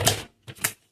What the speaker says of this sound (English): let me grab my guillotine trimmer